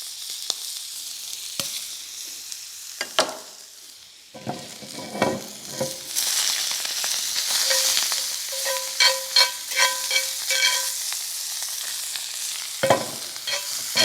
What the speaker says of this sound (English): we'll put a little bit more butter in there as well. And then we'll put some shallots in.